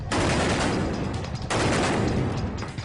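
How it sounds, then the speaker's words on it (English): Rapid bursts of gunfire crackle loudly and continuously through a restaurant during the Mumbai attack, a brief gap splitting two sustained volleys. "we heard consecutive shots just ring through the restaurant"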